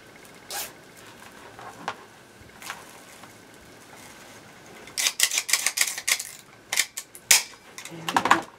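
A zip tie ratchets tight around deco mesh on a watermelon-themed wreath frame: a rapid run of crisp clicking zips after a few isolated ticks, close and loud against a quiet background.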